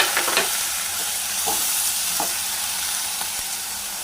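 Tomatoes frying in a pan after other ingredients have softened, a steady broadband sizzle with a few soft stirring clicks, close and continuous, no talking.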